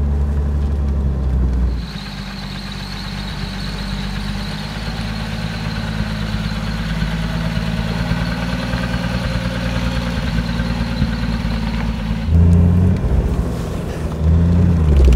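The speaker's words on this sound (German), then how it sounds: "Also anspringen tut er schon mal wunderbar. Ersten Gang rein und los geht's." A 1938 Mercedes 320 Cabriolet engine runs steadily with a deep, even rumble up close, the tone shifting near the end as the car pulls away.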